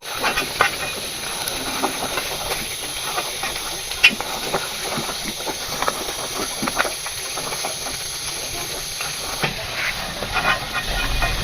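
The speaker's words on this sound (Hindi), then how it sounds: "आधी प्याली घी शामिल कर देंगे इसमें। करीब 4 से 5 मिनट इसकी मुसलसल भुनाई कर लें।" Beef bones frying in ghee for a bone-marrow salan make a continuous hissing, steam-like sizzle. Faint clatters of stirring come through at a steady moderate level, with no talking.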